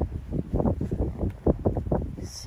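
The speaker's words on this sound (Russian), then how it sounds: "Сегодня ветер, друзья, такой сильный" Strong wind gusts buffet the microphone in irregular, rumbling bursts, loud and close, with no voices.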